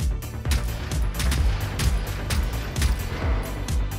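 Rapid bursts of turret gunfire in the video game Generation Zero crack out in an irregular, sustained volley, loud and close, with no talking.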